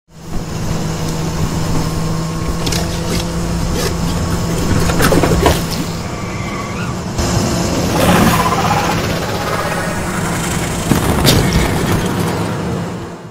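In an animated film chase, motorbike and car engines drone and rev steadily, with rumbling, whooshing passes and a few sharp bangs layered over the continuous, fairly loud roar.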